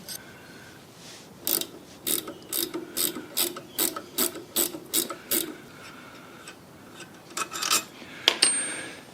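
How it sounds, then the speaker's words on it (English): A ratchet wrench clicks in a quick series of about a dozen sharp, evenly spaced strokes while loosening nuts from a variable-speed milling machine head, followed by a few scattered metallic clinks and a faint whine, close up with no talking. "let's get these nuts off and these threaded rods out."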